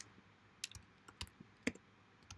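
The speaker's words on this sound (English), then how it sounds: "I can't type on this keyboard" Scattered clicks of typing on a computer keyboard during a programming lecture, a few sharp keystrokes separated by pauses, faint and close with no talk.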